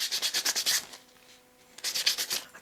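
Sandpaper rubs back and forth on a carved balsa wood fishing lure body in quick bursts of strokes, then a short pause before the scratchy sanding starts again, close up.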